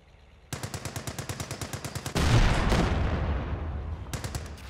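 Video game machine gun and tank fire: a rapid, steady burst of loud shots, then a heavy cannon-like blast with a long rumbling decay, followed by a few more quick shots.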